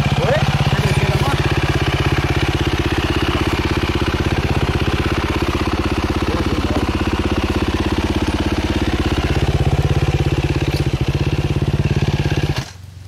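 Motorcycle engine idling steadily at an enduro event, a loud continuous close rumble with a faint clatter that runs throughout and drops away at the very end, while people talk nearby.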